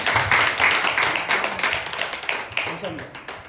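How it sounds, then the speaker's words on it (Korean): Audience applause welcomes a lecturer from the Jeju Dongbu public health center to a talk on walking. The dense clapping is loudest at the start and thins out over a few seconds, with voices mixed in. "큰 박수로 모시겠습니다."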